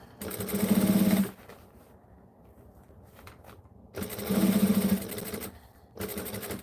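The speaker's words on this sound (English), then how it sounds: "I'm actually going to sew off the end like that." A sewing machine stitches fabric in two loud, close, rapid whirring runs of about a second each, with a quiet pause between them and a third run starting at the end.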